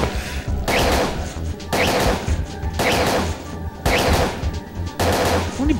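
Bursts of gunfire from the video game Parasite Eve 2 ring out in four or five loud, sharp volleys with brief pauses between them, each shot cracking hard and close.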